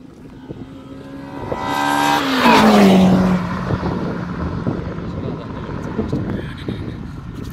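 A Honda Civic Type R exhaust swelling as the car passes close by, the engine note rising to a loud peak and then dropping in pitch as it moves away, with people talking nearby.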